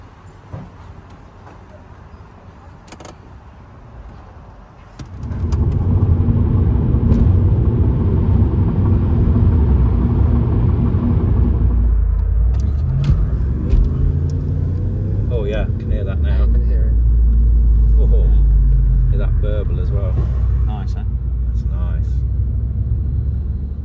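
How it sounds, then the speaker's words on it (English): Audi S4 Cabriolet V8 with quad exhaust rumbling deeply as the car pulls away and drives on, heard from inside the cabin under steady low engine drone, with people talking over it. "V8 sounds glorious"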